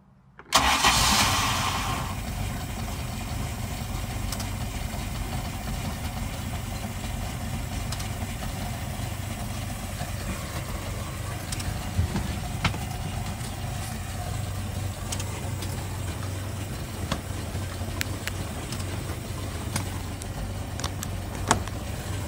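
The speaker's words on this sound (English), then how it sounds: "She's running pretty good. This is a cold start." A MerCruiser 4.3 boat engine cold-starts with a brief crank and catch, then settles into a steady, close, continuous idle for about twenty seconds with no talking.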